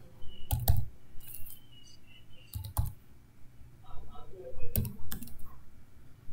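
Typing C code on a computer keyboard under Linux, a few close clusters of crisp key clicks with gaps between bursts, irregular and fairly loud over a quiet room.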